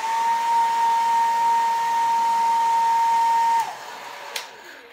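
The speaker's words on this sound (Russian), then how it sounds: "включаю фен и начинаю сушить с пробора" A handheld hair dryer blows steadily at close range while drying a bob haircut at home, a continuous whooshing hum with a faint whine, then it cuts to a lower setting near the end.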